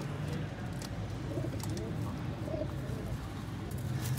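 Fancy pigeons cooing softly and repeatedly nearby, three males and one female, low throaty calls over a busy background hum.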